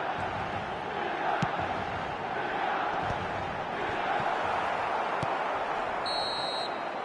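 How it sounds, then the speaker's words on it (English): A football stadium crowd at the end of a match involving Milan, producing a steady, diffuse wash of distant applause and crowd noise with a faint whistle, continuous throughout with no clear talking. "Some warm applause and acknowledgement of the effort put in by the players"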